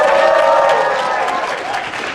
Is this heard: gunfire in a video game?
no